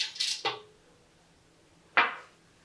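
Two sharp metal-on-dish clinks as seeds are spooned into a raw vegan muskmelon smoothie, a quick pair at the start and a single clink near the end, with quiet in between.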